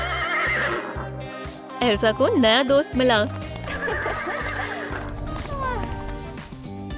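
A horse neighs loudly in a long, wavering whinny near the middle, with speech over it and a busy background of music and other sounds around it.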